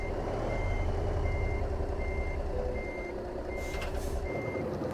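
Truck reversing to hitch a trailer in American Truck Simulator, Nebraska: steady evenly spaced reversing beeps over a continuous low diesel engine rumble, with a brief hiss of air near the end.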